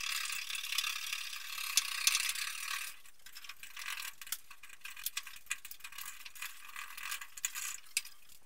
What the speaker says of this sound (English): I also couldn't help myself but to have a go at scraping some of the larger bits off.